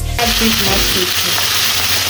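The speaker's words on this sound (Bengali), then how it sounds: "ভেজে নিচ্ছি মাছগুলো।" Spice-rubbed hilsa fish pieces drop into hot oil in a pan, setting off a loud, dense, continuous sizzle that fills the whole stretch up close.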